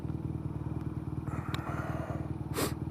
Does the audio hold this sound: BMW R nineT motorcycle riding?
yes